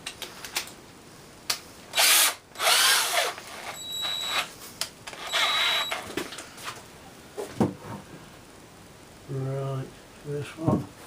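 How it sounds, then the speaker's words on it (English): Several short bursts of a power drill whirring into wood drilling pilot holes for a water barrel, separated by pauses, handling clatter and a little nearby talk. "let's drill some pilot holes"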